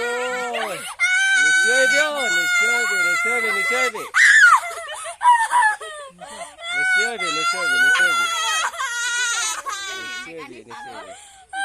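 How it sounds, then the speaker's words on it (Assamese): A girl screams and wails loudly in long, high-pitched bursts during an ear piercing, with brief breaks between cries. "এইয়া তাই কেনেকে চিঞৰিছে"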